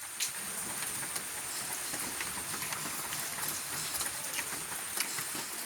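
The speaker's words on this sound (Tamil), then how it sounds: "இப்போ எல்லா இடமும் மழை பெய்யுது" Steady rain falls in a village, a dense, even hiss with scattered sharper drops striking nearby surfaces, continuous and fairly close throughout.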